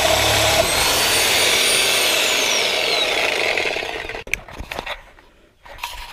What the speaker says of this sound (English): This is what we're going to be using to cut our cats, our last rear cats.